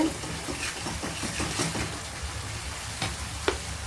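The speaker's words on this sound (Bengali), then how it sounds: "মশলাটা প্রায় ভাজা ভাজা হয়ে আসছে।" Cumin and coriander powder sizzle steadily in a hot pan, a continuous frying hiss with occasional faint stirring taps and scrapes.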